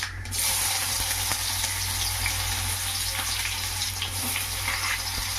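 Onions fry in hot oil with mustard seeds and urad dal, producing a loud, dense, continuous sizzle with faint pops and spatters throughout.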